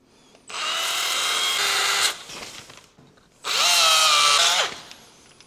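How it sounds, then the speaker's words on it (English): Power tool grinding metal on a Willys MB front brake pipe mount, in two loud sustained bursts of roughly one and a half seconds each, separated by a brief pause, close up with no talking. "Well, I'll have to grind that up first and let's get it welded."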